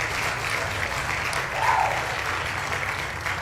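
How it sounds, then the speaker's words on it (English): A burst of applause from a crowd played as a sound effect on a livestream, a steady wash of clapping that holds evenly for a few seconds. "I'm looking for the applause for Juan."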